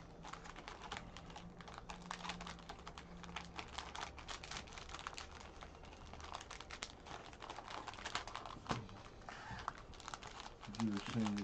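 2020 Mosaic Football trading cards shuffled by hand, a steady run of dense papery riffling and crinkling that carries on throughout the clip, with faint talk in the background.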